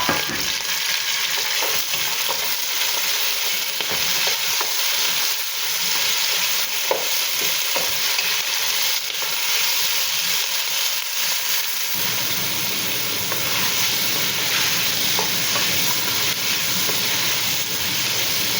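Onions and tomatoes for salmon-head sinigang sauté in a pan with a loud, steady hiss and sizzle, occasional stirring scrapes and no voices.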